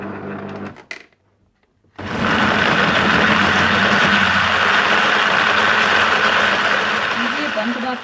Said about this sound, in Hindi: कुटी हुई लाल मिर्च, भुना कुटा ज़ीरा, चीनी और नमक डालकर अच्छी तरह से ब्लेंड कर लें